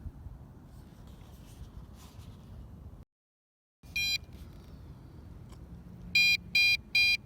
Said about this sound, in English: Once the receiver gets down to 2 bars, it starts with this slow 3 beep.